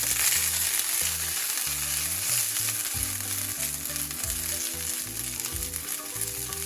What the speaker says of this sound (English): we're gonna take that hot oil and we're gonna add our green beans first